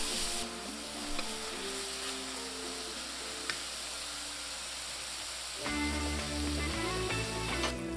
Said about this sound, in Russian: Обжариваем так еще пару минут